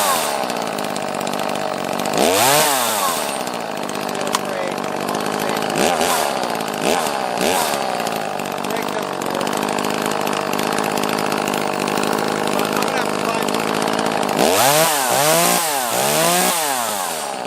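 An Echo CS 330T top-handle chainsaw runs close and loud for the whole stretch, idling with a raspy buzz and revving in sharp rising-and-falling bursts at the start, middle and end.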